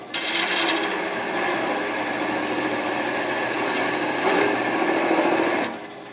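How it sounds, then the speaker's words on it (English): A Robert Sorby texturing tool working the top of a wooden driver spinning on a woodturning lathe, giving a steady buzzing, rasping whir that swells in a couple of bursts before tapering off. "Cheryle is going to do a little texturing on the top of her driver. Oh boy. Robert Sorby texturing tool."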